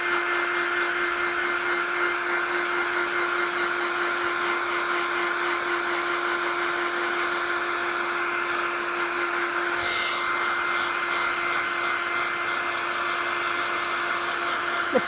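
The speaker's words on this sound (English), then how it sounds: "I need to dry with a hairdryer." Hairdryer drying watercolour painting paper, a steady loud whooshing blower hum running unbroken for about fifteen seconds, close up, with a brief change in airflow midway and no talk.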